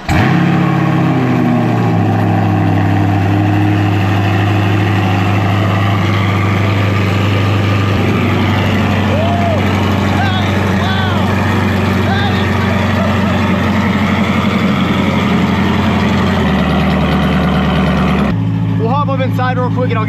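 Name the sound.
catless sports car engine idling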